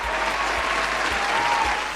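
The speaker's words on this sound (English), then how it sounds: "Give them a round of applause." Steady audience applause fills a live show, a continuous wash of many hands clapping at even loudness throughout, with faint low thumps underneath.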